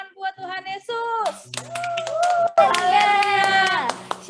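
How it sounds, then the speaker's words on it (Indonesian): Children at a kids' church worship service clap their hands for Jesus, the claps landing as short sharp hits beneath loud, sung and shouted children's voices that dominate throughout. "Coba kakak mau lihat semuanya tepuk tangan buat Tuhan Yesus."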